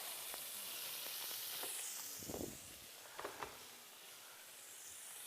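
Scallops searing in a hot pan give a steady close hiss of sizzling, broken by a few brief crackles and spatters, with no talk over it.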